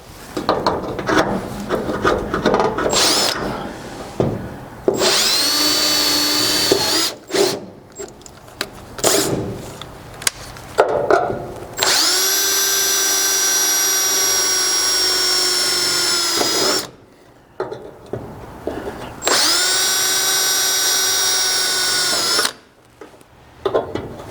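A power drill whines in two long sustained bursts, steady and loud, as the bit drills through a 1973-87 Chevy/GMC Squarebody truck hood, separated by scraping and handling noises with brief quiet gaps.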